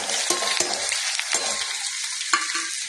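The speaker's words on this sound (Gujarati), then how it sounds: "હવે આપણે આમાં ડુંગળી નાખી દઈશું." Onions frying in a pan for biryani: a bright, dense sizzle up close, punctuated by a few scraping stirs and clinks, with no speech.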